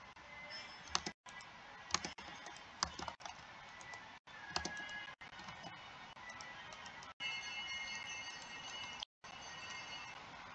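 Computer keyboard typing at a desk while playing Adopt Me, rapid uneven key clicks and taps close to the microphone, continuing steadily with brief gaps and no talking.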